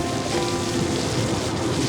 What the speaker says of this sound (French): Bon là on est vraiment sur le plus gros de la pluie